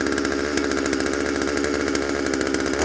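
A 1997 Poulan 2150 chainsaw engine runs steadily and loudly up close, a continuous buzzing two-stroke drone with a slight rise in intensity at the very end.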